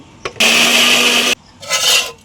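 A kitchen blender grinds mango into paste for a mango cake, a loud whirring burst of about a second, then a shorter, softer pulse after a brief pause.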